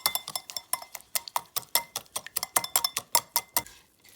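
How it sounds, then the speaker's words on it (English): A whisk beats blueberry pie batter with sugar in a bowl in quick, even strokes, a fast rhythmic series of bright metallic clicks and taps. The strokes run steadily for about four seconds, close and clear, with no talking. "We're gonna give this a nice whisk."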